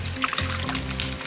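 Water is poured onto opal pay dirt, a brief close splashing pour that lasts a little over a second with no talk over it.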